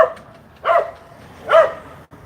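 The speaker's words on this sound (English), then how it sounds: "Listen to that dog." Two separate barks from a dog ring out at a moderate distance, spaced well apart against a quiet background hum, with no voices in between.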